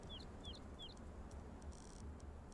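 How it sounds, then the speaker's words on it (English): Chickens in the video game Conan Exiles give three quick, faint chirping clucks over a steady low ambient rumble, with a few soft background tones after them. "I just heard chickens."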